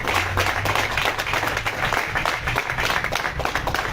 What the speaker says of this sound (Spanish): Démosle un fuerte aplauso a nuestro compañero